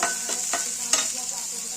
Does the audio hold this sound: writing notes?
no